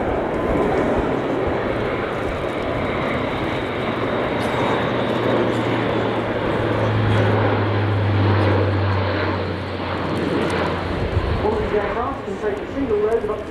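Airbus A400M military transport flying a display at an air show, a loud, steady turboprop drone throughout, with a commentator talking over it.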